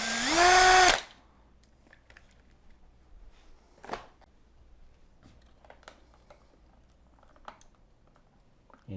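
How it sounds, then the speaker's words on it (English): A drill driver spins briefly at the start while removing the screws from a three-way dimmer slide switch in a wall box. The burst is short and close, followed by quiet with faint clicks and handling noises. "Much easier using a drill driver."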